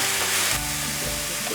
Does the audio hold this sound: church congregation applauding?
no